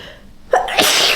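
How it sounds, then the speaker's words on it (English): A single sharp sneeze, a quick intake then a loud burst, close and alone. "oh, I need to sneeze, hold on."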